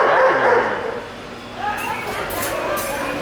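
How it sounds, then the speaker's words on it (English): A Halloween animatronic dog at a Lowe's store barks and yips loudly up close, then quieter electronic sounds follow as people talk nearby. "Oh, that dog went crazy."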